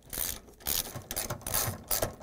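A 3/8 ratchet wrench clicks rapidly while backing bolts out of a GE refrigerator freezer door, in several close, bright ratcheting bursts with brief gaps between them.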